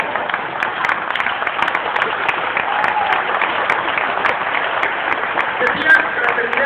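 Applause from an audience at a socialist forum on Bolivarian socialism, a steady dense wash of clapping held at an even level throughout, with a voice faintly heard under it.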